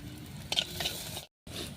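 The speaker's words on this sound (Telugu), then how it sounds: "కరివేపాకు గింజలు మంచిగా ఫ్రై అయిపోయినాయి." Seeds frying in a pan for a garden fry recipe, a steady soft sizzle with a few light stirring scrapes, broken by a brief silent gap before the sizzle resumes.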